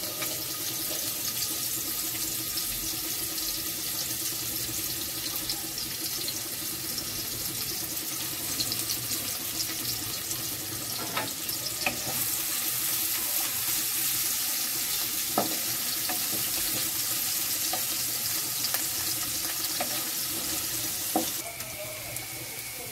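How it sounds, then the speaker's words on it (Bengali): Onions fry in a pan for a hilsa fish curry with cauliflower, potato and beans, making a dense, steady hiss throughout with occasional small clicks and taps of utensils. "এখন আমি একটু পেঁয়াজটা ভেজে নিব।"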